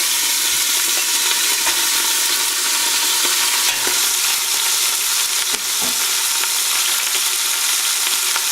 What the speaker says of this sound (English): And saute them till golden brown.